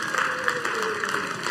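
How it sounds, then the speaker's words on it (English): Church congregation clapping during a family Sunday service, a brief, busy patter of applause across the room, close and fairly loud, with a voice partly over it. "give them a big round of applause"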